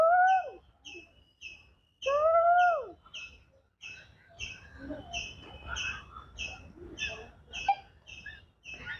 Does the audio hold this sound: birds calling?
yes